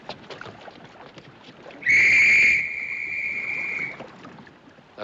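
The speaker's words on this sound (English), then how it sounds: "That's an officer's whistle." A shrill officer's whistle aboard the Titanic in the 1958 film blows one long sustained blast over a busy background of murmuring crowd noise and water.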